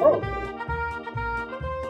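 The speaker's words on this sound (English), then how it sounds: "Perro, dog, perro," A dog barks four times in quick, regular succession, the barks close and moderately loud with harmonic tone and no talk.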